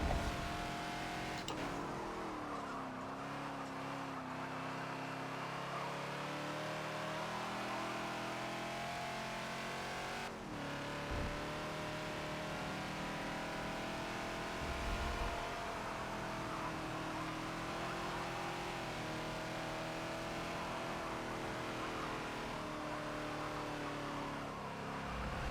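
A Ford Falcon XB in a Forza racing game runs in third gear, its mid-pitched engine droning steadily with rising and falling revs and a couple of brief shifts or lifts across nearly half a minute.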